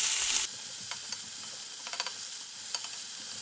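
Leftover zucchini sizzles while cooking in a pan, a constant bright hissing fry with small crackles and pops, close and steady throughout.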